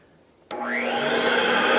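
A vacuum-motor blower on a DFX4 charcoal gasifier switches on suddenly and spins up into a steady, loud, rising whine that holds close by.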